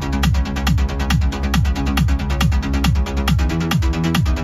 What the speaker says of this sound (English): I only layer the very first bass lines to this Pluck sound.